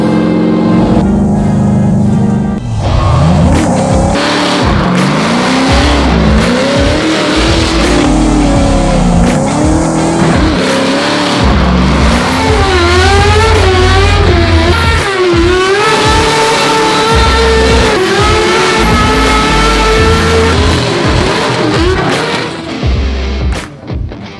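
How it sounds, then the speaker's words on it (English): Formula Drift car drifting with US Marine veterans riding along, its engine rumbling and revving hard while tires squeal in long wavering streaks; loud and continuous, no talking. "We're gonna go out there and shred some tires."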